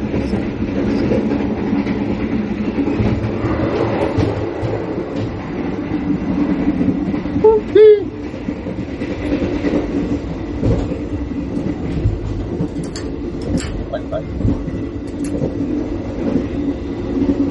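Steady rumble and clatter of a business class carriage on the Tegal Bahari train rolling along Java's rails, with a brief squeal near the middle and faint clicks later, continuous and fairly loud throughout.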